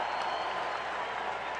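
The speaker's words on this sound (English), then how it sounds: "suddenly the crowd swells with the bases loaded" A ballpark crowd at a Kansas City Royals versus Chicago White Sox game swells into a steady, broad roar of cheering and applause with the bases loaded, sustained and fairly distant throughout.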